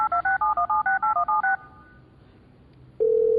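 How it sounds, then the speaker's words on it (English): A video-capable desk phone redials after its callback button is pressed at a conference keynote: a quick run of about nine touch-tone beeps, a short near-silent pause, then a steady ringback tone. "pressing the callback button here"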